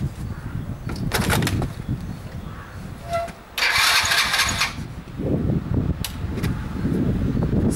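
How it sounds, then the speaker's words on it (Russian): A Delta moped being started in winter, its starter cranking in several rough bursts before a brief louder buzzing catch, with clicks and handling noise between attempts, fairly close and with no talk. "Стартер еще крутит, кстати."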